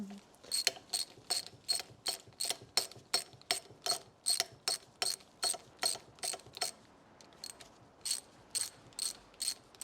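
A spanner loosening 7/16 nuts on a Rolls-Royce B80 engine, heard as a close, steady run of sharp ratcheting clicks in regular rhythmic bursts with little else around.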